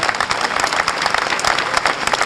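Loud, dense applause from an audience at the unveiling of a sculptural composition honoring Todor Kolev, many hands clapping together in a steady, continuous roar close by.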